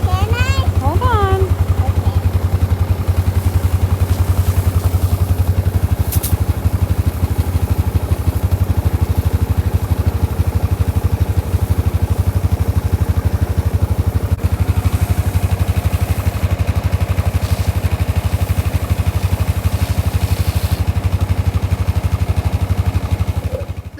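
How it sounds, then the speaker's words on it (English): A side-by-side or four-wheeler engine runs loudly and steadily throughout at a constant idle-like drone, with a voice briefly heard near the start. "the side-by-side or the four-wheeler has to be running the entire time, and it's loud"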